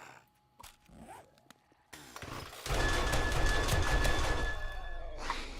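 An AK rifle in 7 Days to Die fires a loud burst of rapid automatic shots after a few quieter mechanical clicks and rattles.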